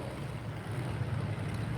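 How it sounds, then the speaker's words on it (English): A wartime diesel V12 engine in a WW2 tank with Christie suspension runs steadily, a low droning rumble held at even loudness throughout, with no talk over it. "it's still one of those wartime diesel V12s that's being used there"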